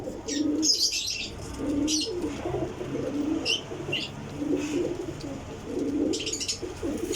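Racing pigeons from a loft of paired champion birds coo repeatedly in low, rolling phrases, with occasional higher chirps and brief wing flaps close by, steady throughout.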